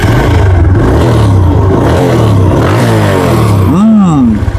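A second-hand TVS Apache RTR 160 2V motorcycle in Faridpur idles with a close, loud engine rumble, then is revved once near the end, rising and falling sharply.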